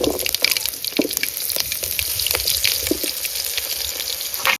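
Oil sizzles and crackles in a pan as onions fry, a continuous bright hiss with sharp popping spatters throughout, close and fairly loud with no talking.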